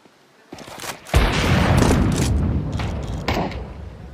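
Grenade blasts and gunfire in a Counter-Strike style team shooter match: a few sharp shots, then a heavy boom opening into a sustained, loud rumble of explosions and rapid fire, with further bursts near the end, and no one speaking.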